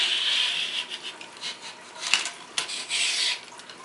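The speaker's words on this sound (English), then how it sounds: "as the wire brush goes through, it spins with your grooves inside your barrel" Wire brush scrubbing rust and dirt inside the barrel of a .45 muzzle loader, a steady close rasping rub with a few sharper scrapes as the brush passes through, heard alone.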